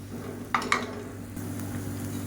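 Food being sautéed in a pan gives a low steady sizzle, with two quick clinks of a utensil against the pan partway through.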